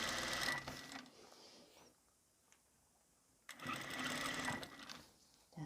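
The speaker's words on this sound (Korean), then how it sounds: "이제 이렇게 해서 오바로코 쳐가 보겠습니다" Overlock sewing machine stitching linen or cotton fabric for an apron, two loud close whirring runs of rapid stitching separated by a quiet pause.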